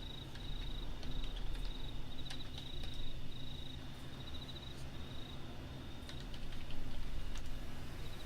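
Quick, light keystrokes on a computer keyboard, tapping in an irregular run of soft clicks, close and quiet, over a low steady hum and a faint high whine; nobody speaks.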